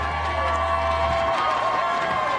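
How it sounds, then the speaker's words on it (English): A stadium crowd cheers and roars after the USA wins recurve mixed team archery gold at the Salt Lake World Cup, a dense, steady wall of noise with a low hum underneath. "Well, the crowd have gone wild here."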